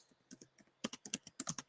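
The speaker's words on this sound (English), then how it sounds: "I'm typing on an angle here." Quick keystrokes tap on a computer keyboard, a few sparse clicks then a denser burst of close, crisp typing.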